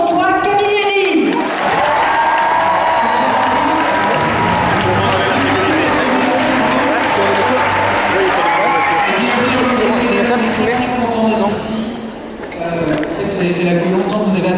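A packed cinema audience at the Grand Rex applauding a Walt Disney Company France executive, loud sustained clapping mixed with cheers and crowd noise that swells, dips briefly near the end, then surges again, with voices calling out.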